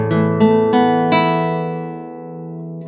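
A chord on a guitar, played as four separately plucked strings in a slow even rhythm, each note clear and close, with the last one ringing out and fading.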